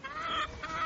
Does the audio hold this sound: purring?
no